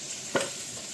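Hot peppers hit a pan of oil, giving a quick loud sizzle that fades into a steady soft frying hiss underneath.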